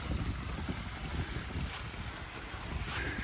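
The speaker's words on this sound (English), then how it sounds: "Pretty little waterfall going up from Cornelia's shelter" Small waterfall along a hiking trail near Cornelia's shelter, a steady broadband rush of falling water, loud and continuous throughout with no voices.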